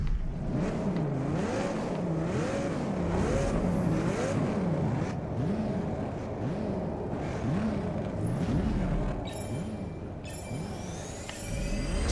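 Audi TT engine in the Test Drive Unlimited Solar Crown racing game, droning and revving steadily with repeated rising and falling pitch sweeps through gear changes, loud and continuous with no talk.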